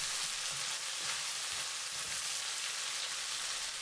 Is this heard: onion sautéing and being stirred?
yes